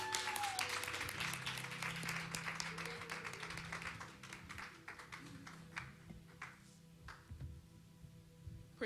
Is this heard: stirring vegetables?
no